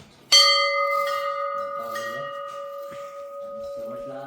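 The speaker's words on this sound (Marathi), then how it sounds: "ही मोठी घंटा आहे" A large temple bell at a hilltop Nageshwar temple is struck once, loud and close, then its deep ringing tone hums and slowly fades for several seconds, with faint voices in the background.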